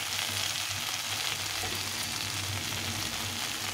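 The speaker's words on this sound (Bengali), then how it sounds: "চচ্চড়িটা একটু ভাজা ভাজা হয়ে গেছে, একদম ভাজা হয়ে গেছে।" Vegetable chochchori with a fish head fries in a pan with a continuous, close, loud sizzle and faint stirring, and no voices.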